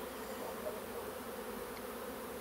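Honey bees swarming around a wooden hive, a faint continuous buzzing hum of many insects, steady and even throughout with no talking.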